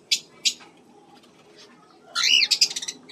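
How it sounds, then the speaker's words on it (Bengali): A lutino cockatiel gives two short, sharp chirps, then after a quiet pause a burst of rapid, shrill whistling calls, close by. "দেখো লুটিনো ককটেল"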